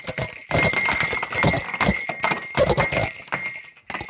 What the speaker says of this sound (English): I'm gonna ring these, obviously.